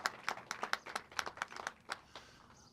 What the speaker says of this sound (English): these folks deserve a huge round of applause for what they've accomplished